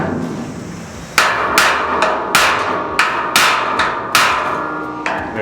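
A 1973-79 Ford F-Series truck bed panel being hammered into place, about a dozen sharp, ringing metal blows at a steady, irregular rhythm, loud and close, with no talk.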